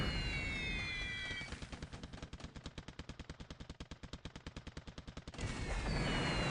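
Anti-aircraft flak in the War in the Pacific video game fires as a rapid, evenly spaced string of sharp bangs, running for about four seconds between stretches of steady background rumble.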